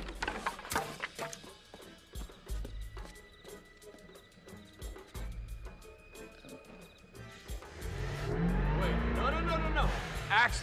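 A car speeding and skidding in a film scene, with music and dialogue before a loud rush of engine and squealing tires that builds and sustains at the end.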